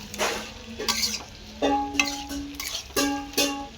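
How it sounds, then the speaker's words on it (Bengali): Vegetables and spices are sautéed for a fish curry, with a utensil scraping and stirring through the pan in several distinct strokes over a soft sizzle, close up. "এবার মশলাটাকে দিয়ে এই মাছের ঝোলের সবজিগুলো সব ভালো করে কষে নেব।"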